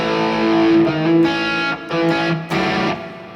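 Distorted electric guitar plays a phrase from a riff, with sustained bright notes and short breaks between them, loud and alone with no talking.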